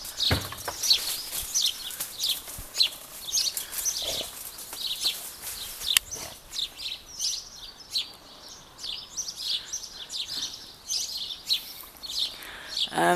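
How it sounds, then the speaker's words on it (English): Many small birds chirp and twitter at once in a garden tree, a dense, busy chorus of bright calls continuing steadily outdoors. "It seems my garden is the favourite place right now for God knows how many birds"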